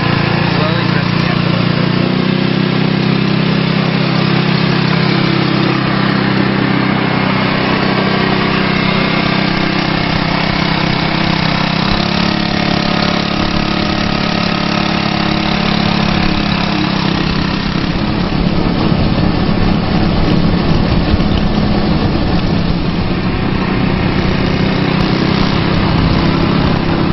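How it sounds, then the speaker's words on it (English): A small engine runs steadily and loudly throughout as a driver eases the brake and presses the gas, with the tone rising slightly in the last stretch and a person talking over it. "put your left foot off the brake. Slowly press the gas."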